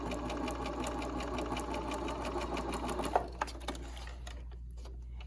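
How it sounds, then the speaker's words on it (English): A sewing machine stitches quilt fabric for a road trip quilt block, a steady close whirring run that fades out after about three seconds, leaving a few soft clicks and quiet handling. "I'm just going to sew, and as you can see, I'm just sewing right along beside that line."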